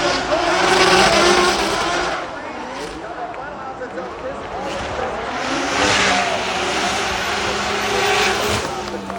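Formula Drift cars at Long Beach, including Chris Forsberg's BMW running tip to tail on initiation, roar and rev loudly with tire squeal and skidding, sustained and close, with an announcer's voice talking over the engines.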